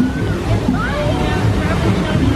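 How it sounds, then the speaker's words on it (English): Waterfalls at a Disney's Animal Kingdom ride area give off a steady broadband rush of falling water, filling the short stretch with faint voices mixed underneath. "Got the waterfalls in the background."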